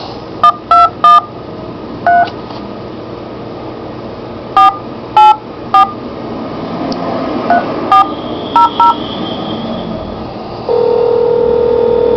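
Telephone keypad tones beep in short bursts, some quick clusters and some single presses, over a quiet line hiss while calling back a police division, ending in a longer steady tone.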